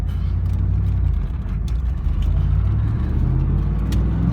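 Driving a 1996 Pontiac Firebird Formula with an LT1 V8 and 6-speed, steady engine drone rising and falling as it revs, close and loud inside the cabin with no talking.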